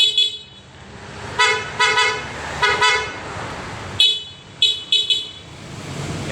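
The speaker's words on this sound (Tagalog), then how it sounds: "Yan, busina mo sir. Naka-low." A dual contact horn on a Yamaha Aerox version 2 scooter sounds in short honks, a pair of toots, then a longer double blast, then a few quick beeps, loud and close with no talk.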